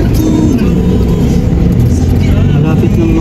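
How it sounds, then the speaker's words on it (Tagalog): Motorized tricycle stuck in deep ground revs its engine in a loud, continuous low rumble heard close up, with voices talking over it. "Ay, na-stuck po yung tricycle dyan."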